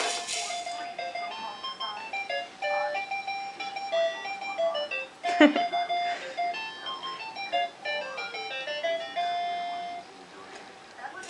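A baby toy plays a tinkling electronic tune, faint and a little tinny, with a brief clatter partway through.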